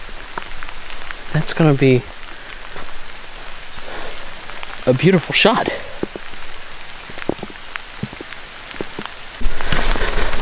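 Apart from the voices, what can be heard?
rain falling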